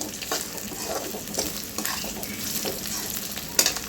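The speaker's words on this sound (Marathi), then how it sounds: "एक एक प्रकारे तळूनच घ्यायचं आहे खरपूस भाजून घ्यायचं आहे असं छान गोल्डन कलर येतपर्यंत" Potato pieces with spinach fry crisp in a pan over a high flame, with a loud close sizzle, rhythmic scraping stirs and a sharp clink of the spoon near the end.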